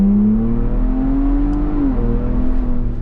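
A 2023 Ford Bronco Raptor engine is floored at full throttle, its loud drone climbing steadily in pitch before a brief drop at a gear change, then pulling again. It is heard close up from inside the vehicle, with no talk.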